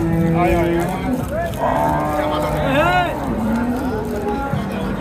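Several dairy cows moo loudly one after another at the Sonaichandi cattle market in Chapainawabganj, Bangladesh, long drawn-out calls overlapping with background chatter and crowd noise.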